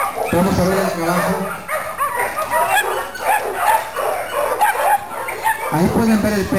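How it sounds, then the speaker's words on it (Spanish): A mixed-breed dog barks repeatedly at an outdoor protection-work demonstration for pets, heard among a noisy audience with people talking. "Ahí pueden ver el perro cómo está haciendo su trabajo. Trabajo de protección."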